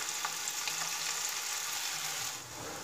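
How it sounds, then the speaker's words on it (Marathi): Cabbage manchurian pakoras fry in oil in a kadhai over medium heat, a dense continuous close sizzle and bubbling hiss, steady throughout with no voices. "आता हे पकोडे आपल्याला मीडियम गॅसवर छान तळून घ्यायचे आहेत"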